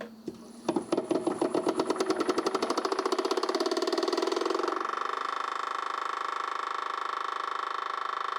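A hydraulic accumulator valve body test rig for Shadow I & II and T1 & T2 starts with a burst of rapid pulsing that builds into a loud, steady mechanical drone, running on close by with no talk.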